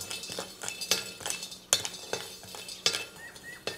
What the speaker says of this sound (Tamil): பெருங்காயம் நல்லா வறுபட்டுருச்சு, நம்ம எடுத்துக்கலாம்.